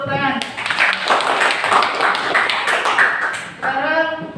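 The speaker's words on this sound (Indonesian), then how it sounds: "kelompok 1 tepuk tangan" Classroom applause for a student group in a lesson, a loud burst of quick clapping from many hands in the middle, with voices speaking before and after it.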